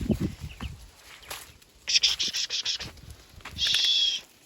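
Free-range chickens let out in a farmyard in the morning to feed, with soft clucks and rustling at the start and bright chirping calls in short bursts further on, while someone speaks to them.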